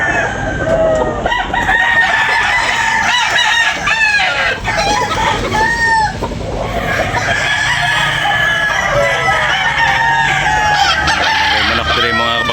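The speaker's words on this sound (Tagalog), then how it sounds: "Dami manok." Roosters crow again and again, loud and close, with constant clucking from many chickens at an early-morning livestock and poultry market in Cebu. Faint voices sit underneath.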